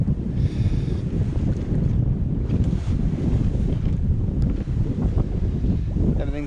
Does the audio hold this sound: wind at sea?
yes